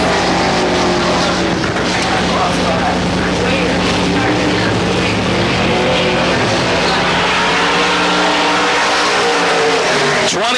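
A stock car roars through a qualifying lap at the 1997 Hillbilly 100, with its engine note rising and falling steadily for the whole stretch, loud and close, over a steady hum, while a voice speaks faintly underneath.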